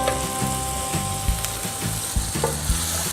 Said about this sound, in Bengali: এবার আমরা এটাকে একটু ভালোভাবে ভেজে নিব।